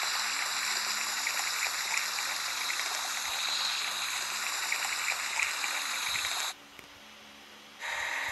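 Steady water spray hisses continuously while an excavator gets washed in a kids' car-wash video game, then cuts out briefly near the end before resuming.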